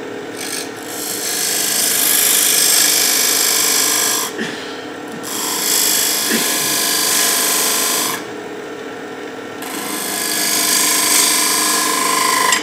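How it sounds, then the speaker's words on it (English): A skew chisel used as a scraper on a wood lathe spinning a half bowl produces a loud, steady, rough scraping hiss. It runs in long passes with brief breaks as the tool lifts off the turning wood. "Then I'm going to use the dreaded skew chisel as a scraper."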